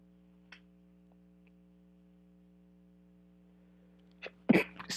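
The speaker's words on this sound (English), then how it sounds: "Excuse me, I'm sneezing." A single loud sneeze close up near the end, with a faint tick earlier over a low steady hum in a quiet room during a painting session.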